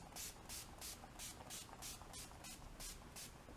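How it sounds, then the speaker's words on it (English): Urban Decay All Nighter setting spray misted from a pump bottle in a steady run of about a dozen short, even hissing bursts, close up, with no talking. "now just to set the face, I'm going to take my Urban Decay All Nighter Setting Spray."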